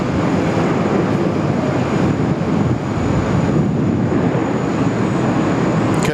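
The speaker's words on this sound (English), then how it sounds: "Here's Xiamen Air, the 787-9er today." A Xiamen Air Boeing 787-9 airliner departing from Sydney Airport, a loud, steady broadband jet roar heard from nearby, partly blurred by wind buffeting the microphone.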